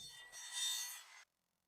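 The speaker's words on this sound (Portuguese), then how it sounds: "usei a lixadeira elétrica de cinta para desgastar os pedaços que sobraram" An electric belt sander grinding down leftover metal pieces: a steady, harsh abrasive rasp runs for about a second, swelling in the middle, then stops abruptly, leaving silence.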